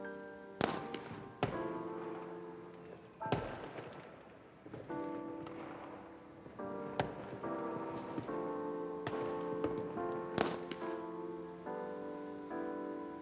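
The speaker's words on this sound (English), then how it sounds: "Fireworks!" Fireworks bursting several times, sharp cracks followed by fizzing crackle, set against sustained music.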